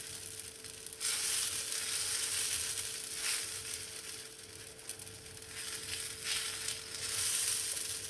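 Urappu adai batter in the Thanjavur style sizzles on a hot griddle stone, a steady, close crackling hiss that swells and eases slightly over several seconds, with no talk.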